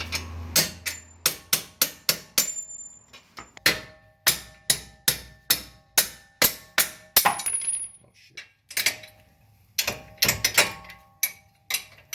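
An impact gun drives two bolts while a Toyota Camry axle is being changed, firing in fast rattling bursts of hammering blows with short pauses between them, loud and close with no talking.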